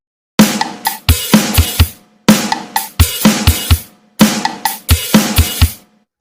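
A drum pattern of kick, snare and hi-hat played on the Real Drum app, repeated three times in a steady rhythm, close and loud, with short gaps between the repeats and no talking.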